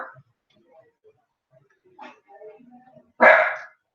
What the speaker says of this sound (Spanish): Aguarden ese perro.